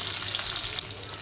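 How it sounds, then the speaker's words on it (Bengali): Fish frying in oil sizzles continuously and close up, a dense, even crackle with no pauses across the short stretch. "মাছগুলো ভেজে নেব।"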